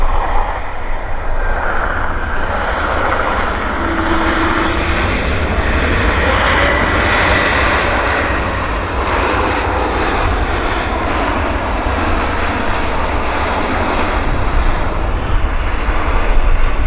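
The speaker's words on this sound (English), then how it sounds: "It's Porter Airlines Flight 305." A Porter Airlines airliner arriving at Vancouver airport, inbound from Toronto, its engines roaring loud and steady throughout at close range with no talk.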